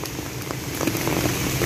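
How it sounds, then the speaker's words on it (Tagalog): Steady heavy rain patters and hisses on a surface, a dense continuous wash of drops with no talking. "Ngayon guys ay ulan, napakalakas na ulan ngayon guys"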